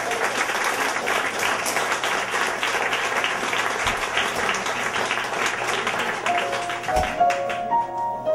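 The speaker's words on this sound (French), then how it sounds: "On lui donne une bonne applaudissement" Audience applause for a performer at a poetry evening, sustained even clapping throughout, with a faint tone and light voices emerging near the end.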